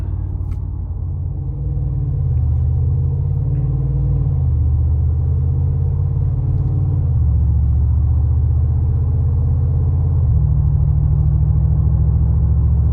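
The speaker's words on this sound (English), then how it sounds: "the boost from the turbos feels really good. The sound from the exhaust, again, you just get a full-on aggressive vehicle here" A Brabus-tuned 2021 Mercedes-Benz G550 WideStar with twin turbos pulls hard, its deep exhaust rumble rising in pitch through several gear changes, loud and steady from inside the cabin.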